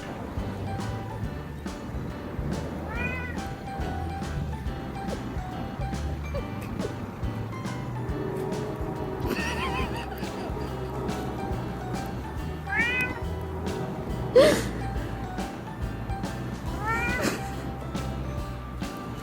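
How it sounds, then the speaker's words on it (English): A cat meows repeatedly outdoors in a snowstorm, several short rising cries spaced a few seconds apart over steady wind and background noise, with one louder burst near the middle. "This cat regrets going out in a snowstorm."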